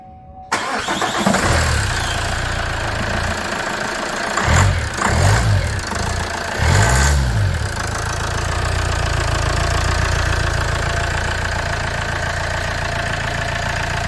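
A 2013 Zafira engine with a newly replaced alternator cranks and catches with a few loud chugs, then settles into a steady, rumbling idle that runs on close and unbroken.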